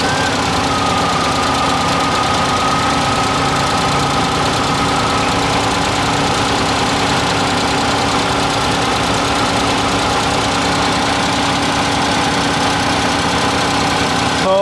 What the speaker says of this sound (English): this seems to me a good point where the engine is still running, it is not stopping